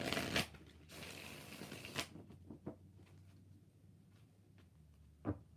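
Tarot cards are shuffled nearby in soft, papery riffles and slides, a longer run of shuffling followed by a few quiet taps and one final crisp riffle in an otherwise quiet room.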